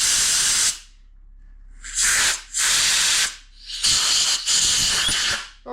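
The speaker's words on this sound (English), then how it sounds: "we will take a little bit of air and just blow through these guys just to make sure all extra crud is out." Compressed air blasting through small Mikuni carburetor parts to clear out crud: three loud, hissy bursts, the first ending near the start, then two longer blasts separated by short pauses, with no talking.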